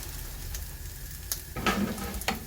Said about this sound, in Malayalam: ഇതിങ്ങനെ കരിയാണ്ട് നല്ല ഒരു കളർ വരുന്ന വരെ നമുക്ക് വറുത്തെടുക്കാം.